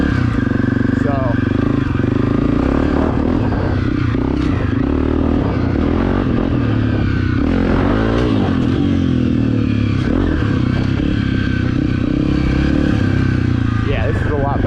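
Honda CRF250F dirt bike engine revving hard at full throttle, loud and close with rising and falling revs and some clatter, a voice talking over it.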